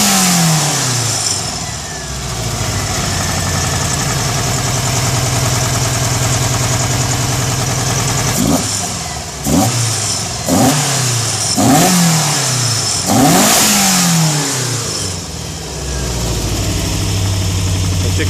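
A VW Golf MK2 fitted with Weber sidedraft carburetors idles steadily, then gets a series of five or six sharp, loud revs in quick succession before settling back to idle, close up.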